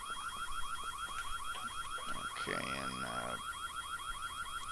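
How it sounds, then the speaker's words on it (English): A rapid, repeating electronic alarm rings continuously in the White Day video game, a fast warbling pulse that stays loud and steady throughout, with a brief spoken interjection and a twangy tone partway through. "we are going to shut that alarm off."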